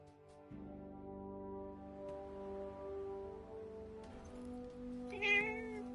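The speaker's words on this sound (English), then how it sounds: "Hey, that cat." A cat meows in the video game Forspoken, a drawn-out tonal call rising near the end over a steady sustained musical background.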